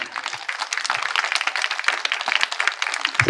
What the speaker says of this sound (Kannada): ಈಗ ಜೋರಾಗಿ ಚಪ್ಪಾಳೆ ಹೊಡ್ಕಂತ ನಗ್ರಿ